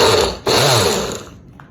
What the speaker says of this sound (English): a blender lid will fit on top of the mason jar, just like that. And all you gotta do, blend it up.